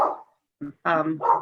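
Dogs bark close by in a home during an online committee meeting, a few sharp barks in quick succession with short gaps between them.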